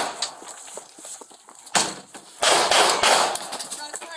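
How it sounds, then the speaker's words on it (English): Gunshots fired during a police raid in Oklahoma City, heard as a few sharp, loud bangs amid shouting voices and scuffling noise. "Shots fired!"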